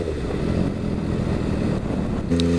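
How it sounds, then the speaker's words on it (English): A loud MV Agusta F3 motorcycle exhaust idles steadily up close with a dense, rumbling drone, then rises briefly in pitch and volume near the end. "because this exhaust is so loud and the vibrational noise that it puts out"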